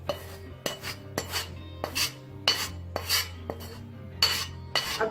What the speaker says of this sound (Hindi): इसको हमने छाननी में छानना है एक बार।